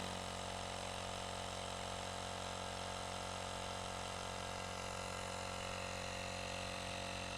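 AVAPOW AP18 portable tire inflator running continuously, a loud, steady mechanical drone with an even buzzing hum that holds without pause from start to finish.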